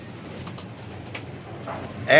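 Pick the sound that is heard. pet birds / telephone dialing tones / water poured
pet birds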